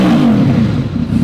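A warmed-up Honda VFR 800 V4 motorcycle engine revs close by, a loud low growl that rises and dips briefly in one short blip.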